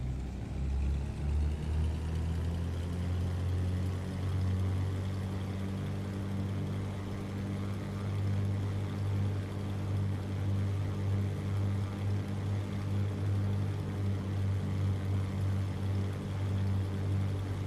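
Piston Duke aircraft engine in Microsoft Flight Simulator (MSFS) runs up toward 2,000 RPM, a steady, loud droning rumble with strong low harmonics that holds evenly throughout.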